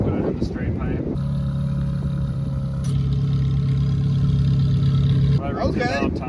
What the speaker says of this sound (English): These enormous intake scoops right behind you. You hear the intake sounds.